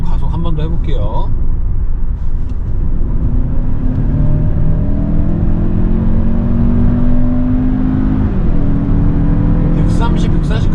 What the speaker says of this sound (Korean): 자, 이번에 좀 가속 한 번 더 해볼게요.